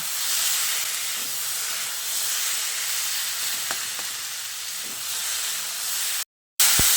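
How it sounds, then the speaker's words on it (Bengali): Spice paste with garlic sautéing in a pan for a Bengali potato and foli fish curry. A steady, loud sizzle and hiss runs throughout with a few faint stirring clicks, then cuts off briefly near the end; no talk. "বাটা মশলাটা দিয়ে 2-3 মিনিট মতো ভালো করে কষিয়ে নিয়েছি"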